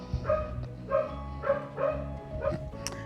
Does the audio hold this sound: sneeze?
no